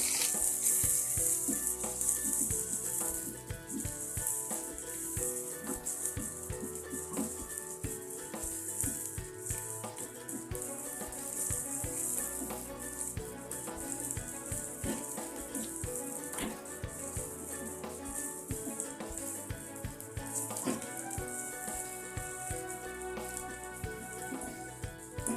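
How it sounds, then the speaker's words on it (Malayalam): Garlic and shallots frying in a pan for a Kerala chammanthi, a steady dense sizzle and crackle that holds for the whole stretch without talk. "വെളുത്തുള്ളിയും ചുവന്നുള്ളിയും ഇപ്പോൾ ഒരുവിധം മൂപ്പായിട്ടുണ്ട്"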